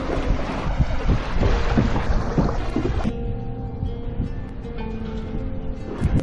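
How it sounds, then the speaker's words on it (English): A kayak passes through small rapids on the Grand River in Michigan near downtown Jackson, with rushing, splashing water and heavy wind buffeting close to the microphone, loud and continuous. "We got a little bit of rapids."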